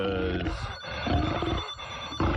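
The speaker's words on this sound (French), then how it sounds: "il y a le téléphone qui sonne, là" A telephone rings indoors in a tense scene, its bell tones steady and fairly loud across the whole stretch, with brief breaks between rings and other room noise mixed in.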